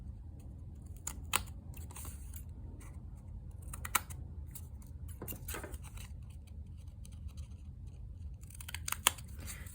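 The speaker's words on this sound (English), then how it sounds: "Cut this piece again." Scissors snipping a piece of paper for a layered bird embellishment ticket project, sparse quiet cuts and clicks scattered over a low steady room hum.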